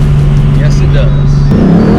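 A 1986 Ford Mustang GT V8 engine running loud and close with timing advanced, a steady low drone that surges into a rev partway through, with talk over it.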